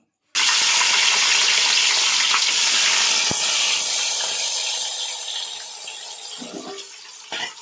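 Curry leaves, green chili, tomato and onion hit hot oil in a pan, starting with a sudden loud burst of sizzling that stays dense, then gradually fades and settles, with a few stirring clatters near the end.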